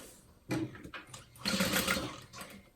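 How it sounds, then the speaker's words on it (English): A sewing machine back stitches and then sews forward on a handbag, heard as close whirring bursts: a short run, a brief pause, then a longer steady run at moderate volume. "Put my needle in, back stitch, and go forward"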